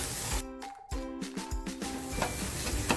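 Masala roasting in a pan while making a rustic village-style dry mutton dish, a soft steady sizzle with occasional stirring scrapes, partly covered by someone talking.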